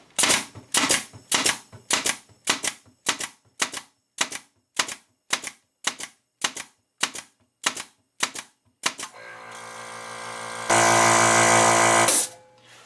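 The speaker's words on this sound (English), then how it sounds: "It was able to fire off 16 shots continually before the compressor needed to kick back on." A Senco FinishPRO 21LXP 21-gauge micro pinner fires 1 3/8 inch pins in a rapid, even run of about sixteen sharp snaps. An air compressor then kicks on, running with a loud, steady motor drone to the end.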